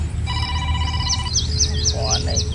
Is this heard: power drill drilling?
no